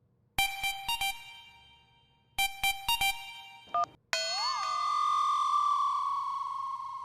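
A phone rings during a call: quick clusters of bright electronic beeps repeat in two bursts, followed by a sustained warbling ring tone. The sound is clean and isolated.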